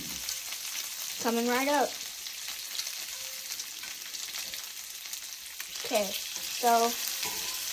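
Bacon sizzles and crackles steadily in a frying pan, a constant bright hiss throughout while a child and an adult talk briefly over it.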